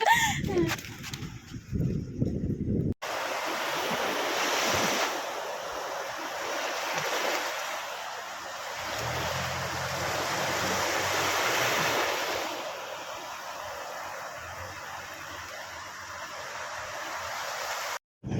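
Sea waves wash steadily against the shore with wind buffeting the microphone, a continuous broad roar close by that swells and eases in gentle surges after a brief opening of voices and handling.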